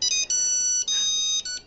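A mobile phone rings with an incoming call, its electronic ringtone playing bright repeated tone bursts in three clear pulses with short gaps, loud and close in a quiet room, nobody speaking.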